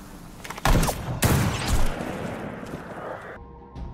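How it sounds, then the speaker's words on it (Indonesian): Gunfire in a Battle for Sevastopol war film scene: a burst of loud, close shots with sharp cracks and booming blasts, followed by a decaying echo and a quieter trailing shot. "Dia berhasil menembak mati Otto meskipun dirinya juga tertembak."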